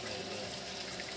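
A 1965 Lady Kenmore washer filling its tub with water at the lowest level setting, a steady soft rush of inflowing water with a faint machine hum behind it, unbroken throughout.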